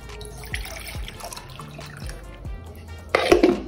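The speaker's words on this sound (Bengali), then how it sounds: "জলটা ঢেলে রাখি।" Water is poured out after washing dishes, heard as a series of separate drips and splashes, ending in a short louder gush.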